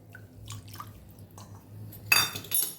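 Buttermilk poured into semolina in a bowl for Kathiyawadi rava tomato dhokla batter, with soft liquid pours and scraping mixing sounds, then a sharp clink of a utensil against the bowl near the end.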